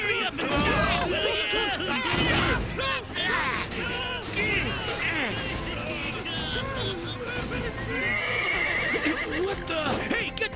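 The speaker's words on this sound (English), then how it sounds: "get them horses calmed down!" Several horses neigh and whinny loudly and repeatedly amid hoof clatter and agitated voices, a chaotic, close, continuous commotion in an anime video game cutscene.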